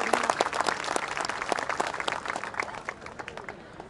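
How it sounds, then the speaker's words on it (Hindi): At a university convocation, an audience claps to welcome guests, a crisp, dense patter of many hands that is loud at first and gradually thins and fades. "मैं चाहूँगा आप सब लोग ताली बजा के आप दोनों महान भावों का बहुत बहुत स्वागत करें।"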